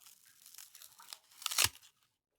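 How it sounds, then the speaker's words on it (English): A single loud, close bite into a shiny apple in a video game, preceded by soft crinkly tearing sounds and ending in a sharp crunch, with no talk. "Oh, that was a good crunch."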